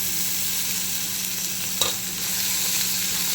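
Tomatoes fry in a pan for chicken biryani, a steady loud sizzle with a brief stir partway through and no talk.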